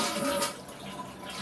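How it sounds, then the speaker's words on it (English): A toilet flushes as the tank drains during a tank repair, a close rushing gurgle of water that fades slightly toward the end. "What we do is we flush the toilet"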